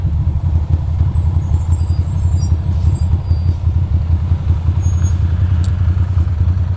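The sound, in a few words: school bus in traffic, air brakes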